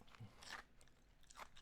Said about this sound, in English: I'm chewing ice.